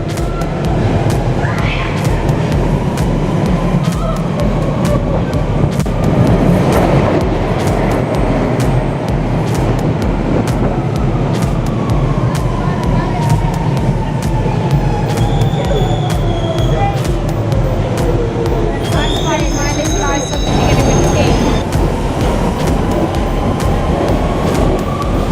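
A London Underground train pulls away from a station platform, its loud rumbling, rising motor whine and squealing wheels filling the space continuously over station ambience, with some voices in the background.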